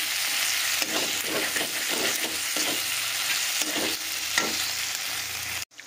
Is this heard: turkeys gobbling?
no